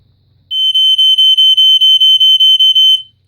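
A Fyrnetics Lifesaver F-900D smoke detector gives a piercing high-pitched electronic alarm, beeping in a rapid run of about a dozen pulses, loud and close, with slightly uneven spacing between beeps.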